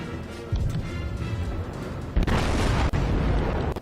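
Heavy naval gunfire from a battleship broadside in the World of Warships game, around the USS Arkansas, arrives as deep booming blasts: one surge at about half a second, a louder thud near two seconds, and rumbling continuing throughout.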